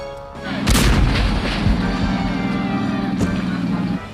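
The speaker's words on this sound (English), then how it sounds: "Being shot out of a cannon and soaring for 120 feet at 50 miles an hour does have its share of occupational hazards." A human cannonball fired from a cannon, one sharp loud boom followed by a rumbling roar that holds steady for a few seconds before cutting off.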